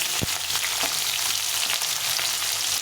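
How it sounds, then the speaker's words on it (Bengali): Small potato pieces frying in hot oil in a pan, a dense, steady close-up sizzle with a couple of soft knocks, no voices. "আলুটাকে প্রথমে ভেজে দেবো"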